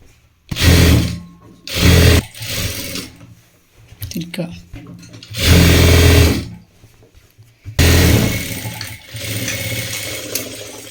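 A sewing machine stitches a cloth bag in loud, close bursts of steady mechanical whirring, separated by short pauses, the last run settling into a softer hum.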